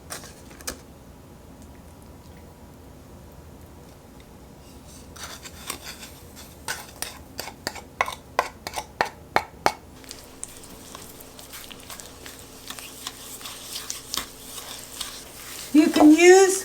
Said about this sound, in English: So the first thing that he is going to do is cream the olive oil, the butter,